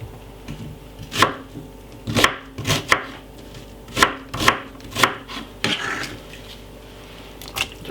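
A knife chops a white onion on a board for chicken soup, about a dozen crisp, fairly loud cuts landing at an uneven pace, close by with no speech.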